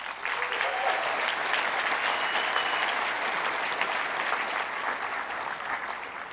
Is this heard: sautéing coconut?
no